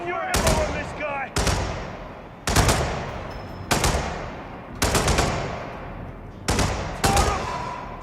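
Gunfire in Hitman World of Assassination: a series of loud, sharp bursts of rapid automatic fire, about seven volleys each fading into echo, with brief pauses between and some talk around them.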